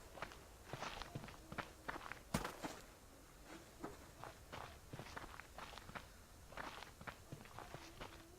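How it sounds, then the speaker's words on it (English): Footsteps in the survival video game Subsistence, a steady run of soft, fairly close steps crunching one after another across the whole stretch, with one sharper knock partway through. "Thought I heard footsteps."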